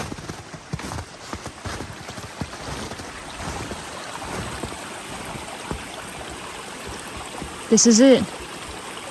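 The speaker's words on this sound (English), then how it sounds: "This is my just most cherished favorite part of the creek." A creek flows steadily through the snowy Appalachian mountains, a constant close wash of water that fills the scene, with people talking briefly over it.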